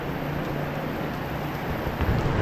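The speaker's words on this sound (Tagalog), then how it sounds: "Lakas ng ulan." Heavy rain falls as a constant, moderately loud hiss with some low rumble and wind buffeting, with no voices.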